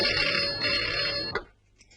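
An electronic telephone ring warbles steadily, loud and close, then cuts off abruptly, leaving near silence.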